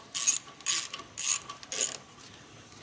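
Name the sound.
ratchet turning tensioner to loosen Nissan Maxima power steering belt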